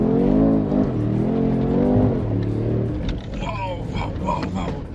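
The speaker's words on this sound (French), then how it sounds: "on entend le moteur V8, la boîte qui est là" A 2025 Mercedes-AMG G 63 V8 revs hard on a muddy off-road track, its deep engine note rising and falling in close, loud surges, with people talking over the last part.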